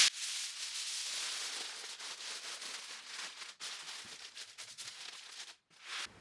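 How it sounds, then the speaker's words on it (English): Aluminum foil is pulled and pressed over a roasted turkey. It gives a continuous, close, crinkling rustle that lasts several seconds, with brief pauses as the sheet is handled. "I want to cover it up with aluminum foil."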